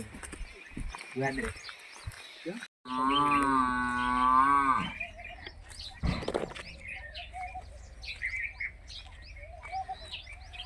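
A cow lets out one long, loud moo partway through, with birds chirping and people talking around it outdoors in a village in Rajasthan.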